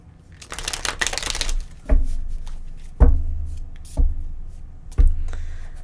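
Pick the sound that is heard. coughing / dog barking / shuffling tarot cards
shuffling tarot cards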